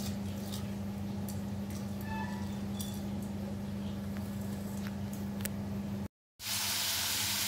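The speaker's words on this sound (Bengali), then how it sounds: "জল ফুটতে শুরু করেছে" Rice water bubbling at a steady boil in a pot on the stove, a continuous low rumbling hiss with faint clinks, running unbroken before a brief cut to silence and then resuming.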